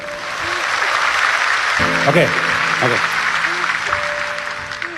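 Audience applause at a talk, a continuous wash of clapping with a voice speaking and exclaiming over it.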